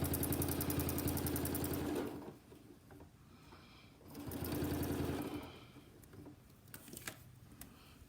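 A sewing machine stitches a quilt guided by quilting templates, running in two bursts of rapid, close mechanical whirring separated by quiet pauses with light handling clicks.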